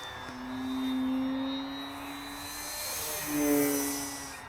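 An E-Flite Decathlon RC plane with an electric motor flies past, its steady whine rising and falling in pitch as it swings closer and farther away, with no talk over it.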